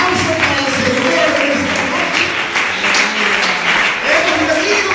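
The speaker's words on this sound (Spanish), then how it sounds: "Aplauso para el Señor." Church congregation clapping in praise during a sermon, a loud, full burst of many hands with voices mixed in, steady and close for several seconds.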